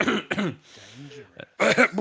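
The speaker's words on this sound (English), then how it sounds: "I just used to cough really loudly, so it sounded like I got COVID coming on" Loud, deliberate coughs from a person during a casual podcast conversation, coming in harsh bursts at the start and end, close and forceful, with throat-clearing texture in between.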